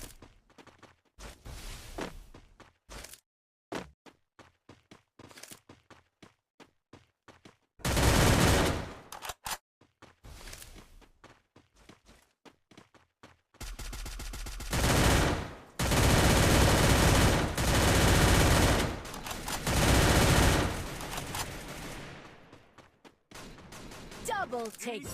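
Gunfire in a shooting video game with headshots landing: bursts of rapid automatic fire and single shots start and stop across the clip, with several long, loud, dense volleys close up.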